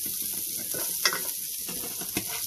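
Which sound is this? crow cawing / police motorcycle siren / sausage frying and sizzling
sausage frying and sizzling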